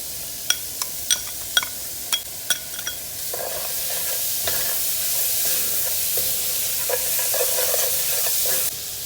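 Creole spice, tomatoes and corn sizzle in a pan, opening with several sharp clinks of a utensil against the pan before settling into a steady, bright hiss.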